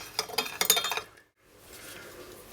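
A spoon clinks and scrapes against a container while stirring raw sugar into warm water, a quick run of bright taps that stops abruptly, followed by quiet room tone.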